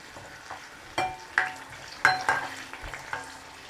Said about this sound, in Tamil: இது நல்லா பொரியட்டும். இப்போ வரமிளகாய் சேர்த்துக்கலாம்.